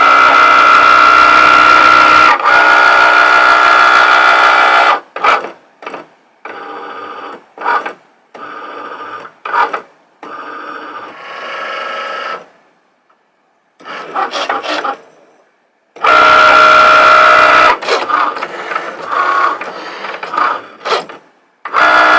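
A Cricut machine cutting a print-then-cut sheet makes loud rasping, scraping passes, with long continuous runs at the start and end and short broken bursts with pauses between them.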